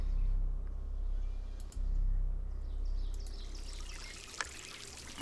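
Water pours from a bucket in the video game Lost Lands 3 as a steady low gushing stream that tapers into a thinner trickle, with a few small clicks.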